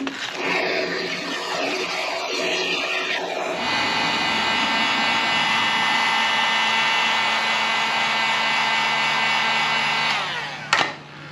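Power tool cutting a piece of PVC pipe for a homemade push pole: a loud, steady high-pitched whine starting a few seconds in after some handling noise, running about seven seconds, then winding down with a clunk.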